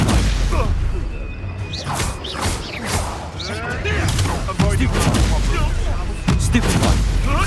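Stupefy spells cast in combat in Hogwarts Legacy, with repeated booming magical blasts, whooshes and thuds layered over a dense, loud battle soundscape, and voices heard throughout.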